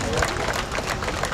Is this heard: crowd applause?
yes